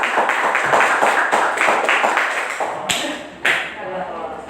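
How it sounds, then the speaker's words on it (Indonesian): Students in a classroom clap in a rhythmic, patterned burst, loud and close, that fades out, followed by a couple of sharp isolated claps. "Silakan tepuk tangan."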